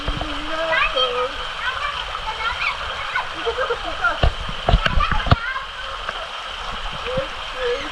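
Water splashes and patters from a shower at a swimming pool, a continuous spray hiss with occasional sharper splashes, while children talk and shout excitedly over it.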